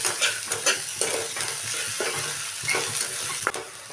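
Ginger and garlic sizzle in hot oil while being stirred until lightly browned for an Assamese egg curry, continuous frying hiss broken by repeated spatula scrapes against the pan.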